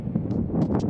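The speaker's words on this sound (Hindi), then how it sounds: "ऐसे दबा के हवा चल रही है ना, ऐसे दबा के" Strong wind buffeting an unshielded microphone at a frozen high-altitude lake, a dense continuous low roar with gusty rumbling throughout, loud and close, with no other sound standing out.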